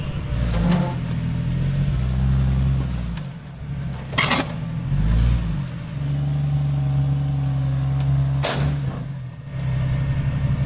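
An old $5,000 jalopy Jeep drives off-road, its engine droning and revving steadily with two sharp bangs as it lands a jump, recorded close and loud with no talk.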